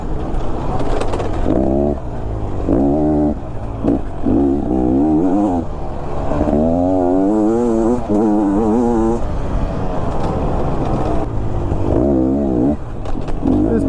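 A 2022 Beta XTrainer 300 dirt bike engine lugs at low RPM while riding, with a steady, close, buzzing tone that rises and falls in pitch as the throttle is blipped and eased through the ride.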